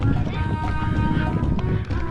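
Horses at riding stables in At-Tumama, Riyadh, clop their hooves in a loose, busy rhythm at close range, mixed with a brief whinny and background voices.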